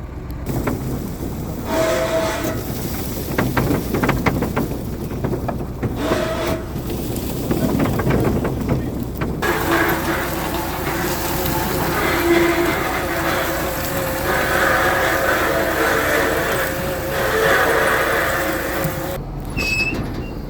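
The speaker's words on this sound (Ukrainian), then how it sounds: "Зараз е, буде йти вивантаження в контейнер." An onion harvester unloads onions from its bunker into a container in a southern Ukrainian field, giving a steady loud mechanical rumble and rattle of machinery and conveyor throughout, with brief voices in the first half.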